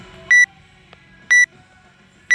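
An electronic timer beeps in clean, short, high tones, three evenly spaced single beeps about a second apart, near and clear with quiet background in between.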